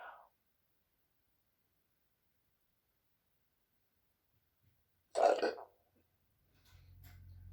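A single loud belch rises out of near silence during a healing-sound breathing exercise, with a faint short sound before it and low background noise after.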